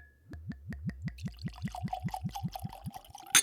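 The Botanist Islay gin glugs from the bottle into a glass, a rapid rhythmic series of about fifteen close, hollow gurgles that speed up and blur into a trickle before a final clink.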